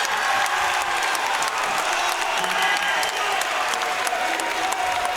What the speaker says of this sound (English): Crowd absolutely loved that one, Adam, and so did I.